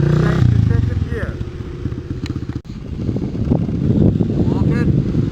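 A dirt bike pulls away and shifts up into second gear, its engine droning and rising in pitch between the gear change, heard under wind noise with someone talking over it throughout.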